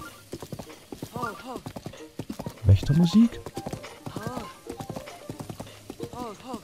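Horse hooves clip-clop in Zelda: Breath of the Wild as a large horse trots along a path on its own, a steady rhythmic beat running beneath continuous talking and rising briefly to a louder burst midway.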